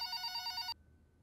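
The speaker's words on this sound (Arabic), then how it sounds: "راج رح أرد على التليفون" A landline telephone rings with a steady electronic warble, one burst lasting under a second before it cuts off into near silence.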